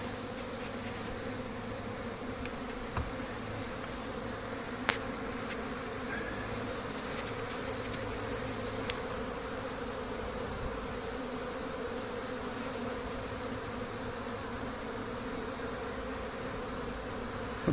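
Honeybees buzz around the hives at an apiary in Santeny, a dense, steady droning hum of many insects that fills the air without a break, with a few faint ticks behind it.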